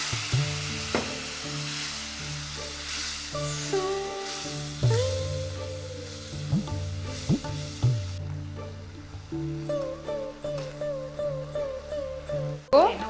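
Coriander powder frying in a pan for an Iyer-style orange peel vathakulambu, a low continuous sizzle broken by repeated stirring scrapes and knocks, with a steady hum beneath.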